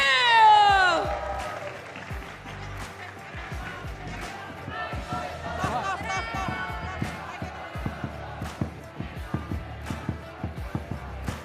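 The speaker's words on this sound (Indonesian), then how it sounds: "Sekali lagi beri tepuk tangan untuk tim RRQ." A crowd at an esports event cheers for team RRQ with whoops and shouts, then a run of sharp, rhythmic claps builds toward the end, loud and close.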